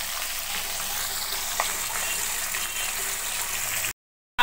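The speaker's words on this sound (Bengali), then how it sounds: "মাছটা ভাজার সময় তেল তেলে দেওয়াতে ফাটছে" Pabda fish fries in spattering oil, a dense, continuous close sizzle with a few small pops, ending abruptly in silence near the end.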